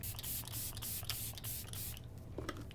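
Several quick spritzes of a Collab Grand Finale 3-in-1 hydrating setting mist pumped close by in a row, a steady hiss of spray bursts with no talking.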